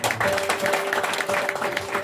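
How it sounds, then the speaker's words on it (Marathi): Loud, dense applause from an audience at a bhajan competition, with steady clapping filling the hall and a faint sustained tone beneath it. "जोरदार टाळ्या वाजवतात"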